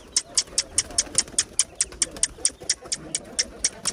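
Pigeons being let out of a loft coo in a steady rhythm of about twenty repeated, evenly spaced calls. The calls are close and clear over a low background murmur.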